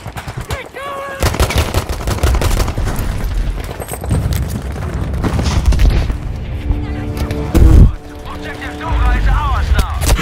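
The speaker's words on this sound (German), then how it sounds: "Ich werfe eine Granate." Grenade blast in Battlefield V, a heavy low boom near the end rising out of constant game gunfire, with someone talking over the action.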